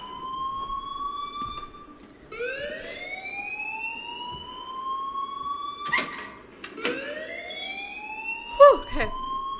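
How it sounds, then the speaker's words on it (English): A fire alarm blares in the Life Is Strange video game, with repeated rising electronic wails sweeping up again and again, loud and continuous, with brief knocks and a voice talking underneath. "please turn off that alarm since that's your job."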